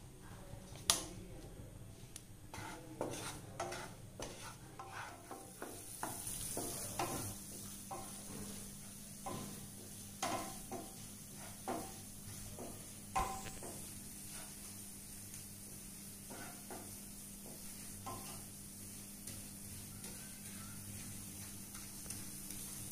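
All-purpose flour fries in a pan for mac and cheese, heard as a soft, low sizzle with repeated light scraping and tapping stir strokes close by.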